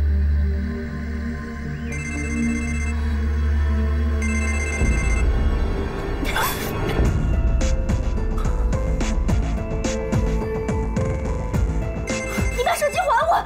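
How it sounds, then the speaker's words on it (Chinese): A mobile phone ringtone sounds in two short repeated bursts over a low steady hum, followed by louder clattering and rustling noise in a tense domestic scene. "接电话，青灵。"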